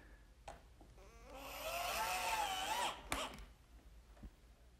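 Power drill driving screws into wood pieces for a hutch build, a brief rising motor whir lasting under two seconds, faint and close, with a few knocks and clicks around it.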